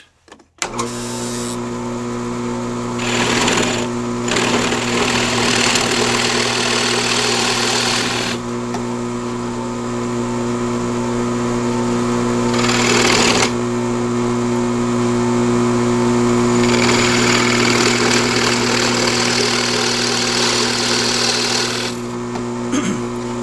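A drill press set to about 1,000 RPM starts up and runs loud and steady, a constant motor whine with a few shifts in tone as it spins on, no talking over it.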